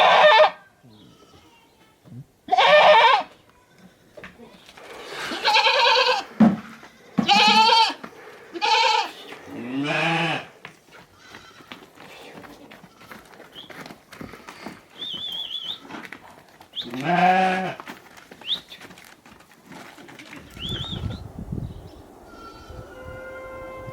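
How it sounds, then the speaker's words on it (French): Goats bleat repeatedly near a Buddhist monastery in the Himalayan Spiti valley, loud nearby calls in irregular bursts with quieter gaps and a few faint higher chirps between them. "Il règne ici un silence total, seulement troublé par les tambours des moines et les conversations des chèvres."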